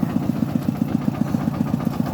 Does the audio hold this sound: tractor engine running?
yes